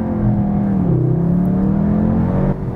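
A Cupra Leon pulling away under launch control on winter tyres, its engine holding a loud, steady drone, then climbing in pitch as it accelerates, close and continuous with no voices.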